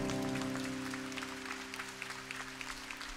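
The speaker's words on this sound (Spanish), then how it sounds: "Un aplauso a la Santísima Virgen María" Applause from a concert audience at the Los Angeles Convention Center, heard over sustained music tones, a dense wash of clapping that starts loud and slowly thins.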